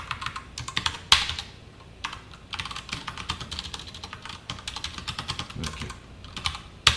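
Rapid, uneven keystrokes on a computer keyboard entering Java code, close and crisp, with short bursts and pauses and no talking.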